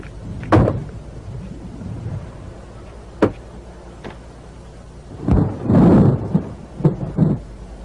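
A thunderstorm near Hong Kong, with sharp thunder cracks and rumbling bursts over a faint background of rain, the loudest rolls near the end.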